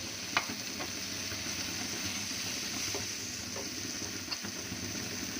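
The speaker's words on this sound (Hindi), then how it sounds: "चलो तो इस तरीके से हमने मसाले को पकाना है।" Spice masala with a splash of water cooks in a pan for aloo paratha filling, giving a steady quiet sizzle broken by a few faint clicks of stirring.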